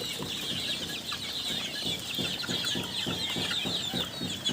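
A flock of chickens and young chicks cluck in soft, rhythmic bursts alongside high peeping in a farmyard. The sound is steady and moderately close, with no talk.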